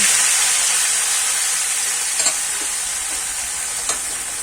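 Water spinach (kalmi greens) dropped into hot oil with cumin seeds, giving a loud, steady sizzling hiss that fades slightly over time, with a couple of soft utensil taps and no talk.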